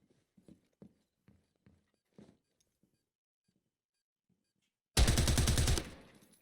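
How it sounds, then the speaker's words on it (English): A sharp burst of rapid automatic gunfire in the Zero Hour tactical shooter, arriving suddenly and loud after a few seconds of faint footsteps and quiet movement, then cutting off with a short tail. "SlaYx is the one that Astro and SlaYx were exchanging fire with"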